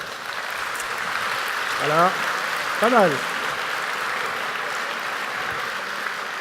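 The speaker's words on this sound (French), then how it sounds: "de me délivrer une salve d'applaudissements" Audience applause at the opening of the Global Positive Forum in France: a steady, dense wash of clapping throughout, with a voice briefly speaking over it near the middle.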